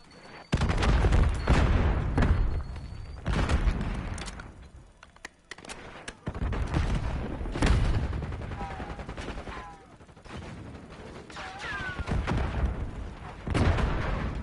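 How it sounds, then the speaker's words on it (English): Explosions and gunfire from the shooter game Call of Duty: Black Ops 6 in a multiplayer match, with repeated booms and bursts of shots through a busy, rumbling battlefield background, some near and some distant. "I can hear explosions and gunfire in the background"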